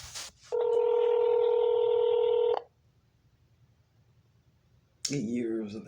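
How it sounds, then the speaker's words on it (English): An outgoing phone call rings back with a steady two-second ringback tone heard close on the line. Silence follows, and then a voice starts speaking. "It's ringing."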